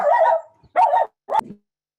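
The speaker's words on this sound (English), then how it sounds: "sorry, that is my dog." A pet dog barks three times close by, each bark sharp and loud with short gaps, the last one clipped short.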